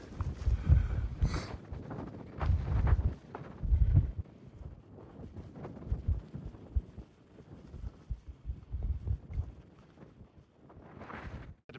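Strong gusts of wind buffet a microphone on a high Colorado mountain pass near San Luis Peak, loud irregular low-pitched blasts that rise and fall in bursts with no speech.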